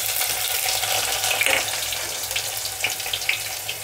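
Chopped onion pieces hit a hot pan of oil with already-fried garlic and sizzle with a steady, close crackle and hiss, with a couple of brief louder spits.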